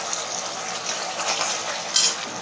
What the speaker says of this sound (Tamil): இப்போ நல்லா கொதிச்சு வந்துருச்சு. அந்த டைம்ல கொஞ்சமா நம்ம கார்ன்ஃப்ளவர் மாவு கரைச்சி வச்சது ஊற்றிக்கலாம்.